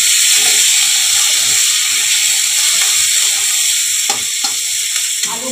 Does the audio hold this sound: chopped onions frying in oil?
yes